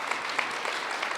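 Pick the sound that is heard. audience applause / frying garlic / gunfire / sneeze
audience applause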